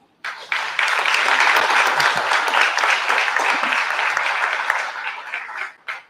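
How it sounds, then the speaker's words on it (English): Sustained applause from an audience at a school signing-day ceremony, steady and full for several seconds before tapering off at the end. "We applaud you tonight"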